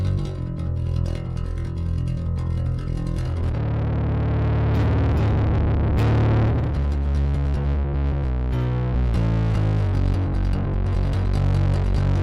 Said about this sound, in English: I am gonna blend the fuzz distortion with the clean bass signal